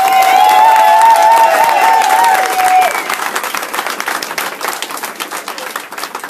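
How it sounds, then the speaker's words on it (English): Rally crowd opposing family separation claps and cheers loudly, with whistles and shouts over the first half, then the clapping thins into scattered, rhythmic hand claps. "clap your hands."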